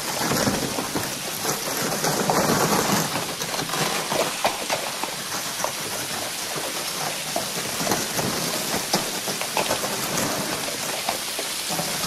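Heavy rain pours steadily with a dense hiss of drops, and a low thunder rumble rolls underneath, loud and continuous with no voices.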